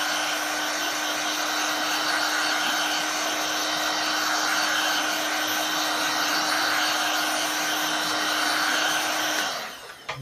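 A heat gun blowing steadily at close range as it dries cleaned Kawasaki ZZR600 motorcycle parts in a workshop, a constant loud whir with a faint tonal hum that cuts off abruptly near the end.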